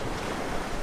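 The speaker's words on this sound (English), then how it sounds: "The waves are big, and we are, I think, more or less now in front of the exit of the river." Big sea waves wash around a sailing boat near a river mouth, a loud, continuous rush of water mixed with wind noise on the microphone.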